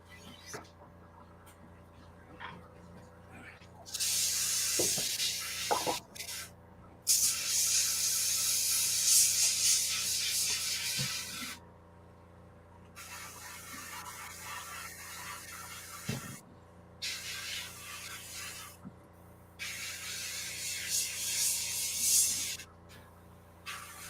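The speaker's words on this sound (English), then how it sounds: "let me clean this airbrush out" An airbrush sprays in several bursts of steady hiss lasting a few seconds each, separated by short pauses, with faint clicks and handling noises in between.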